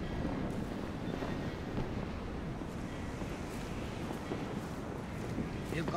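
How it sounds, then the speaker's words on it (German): Stormy wind blows in the video game Deus Ex: Mankind Divided, a constant low roaring rush with gusty broadband noise, steady and fairly quiet. "Der Wind wird immer stürmischer."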